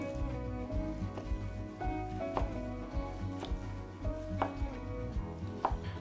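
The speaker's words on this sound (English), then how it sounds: "we're cutting these nice little pieces with this super sharp Victorinox knife" Wild boar meat cut into small cubes with a very sharp Victorinox knife, a steady series of close, crisp chops and knife taps on a cutting board, spaced evenly.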